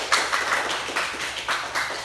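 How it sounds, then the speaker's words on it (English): A classroom gives a barangay clap, a short patterned group clap, heard as a few rhythmic bursts of hand claps at moderate volume in a room with no speech. "let's give Miss Eliza a barangay clap"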